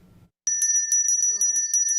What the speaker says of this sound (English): Oh, the bell ringers?